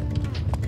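Horse hooves clip-clop in the medieval MMO Life is Feudal, a quick run of soft, fairly close steps over a steady low background rumble.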